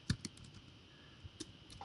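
Someone taps at a computer keyboard, with a few sharp key clicks spaced irregularly in a quiet room.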